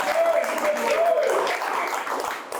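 A live audience at the first U.S. Soccer podcast taping applauds in a steady wash of clapping, with voices carrying over it.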